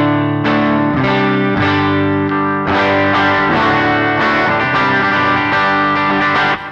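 An electric guitar played through a Line 6 Helix with a dual cab setup and room reverb rings out in loud, sustained distorted chords, several strummed changes across the clip with no talking.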